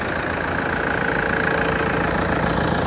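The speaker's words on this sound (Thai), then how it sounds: "เดี๋ยวดูเสียงเครื่องกันเพราะว่าจริงๆเขาจะไม่คงไม่ดังมากนะ" Toyota 1KD common-rail diesel engine idling in a car, a steady, continuous clattering rumble with a diesel knock, close and fairly loud, with no talk over it.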